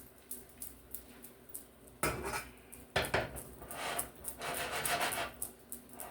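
A utensil scrapes and taps against a pan while juices are stirred together after pan-frying salmon, a soft rhythmic clatter that grows busier partway through, no talking.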